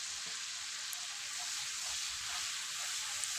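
Turmeric and chili powder frying in a pan for a coriander-leaf pickle, a steady close hiss of sizzling oil with faint scraping as the spices are stirred, no talk.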